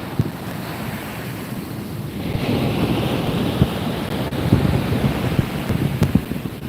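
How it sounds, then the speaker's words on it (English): Ocean surf rumbles and washes continuously along a beach at night during surf fishing, mixed with heavy wind buffeting the microphone and no voices. "I see waves."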